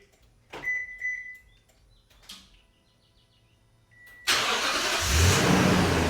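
A 2010-2017 Toyota Tundra engine starting by remote start after a few short beeps and clicks, cranking and catching into a loud, steady idle nearby.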